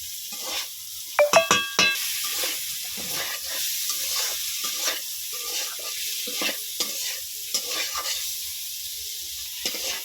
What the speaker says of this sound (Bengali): ফুলকপিগুলো দিয়ে খুব সুন্দর করে নেড়ে ছেড়ে নেবো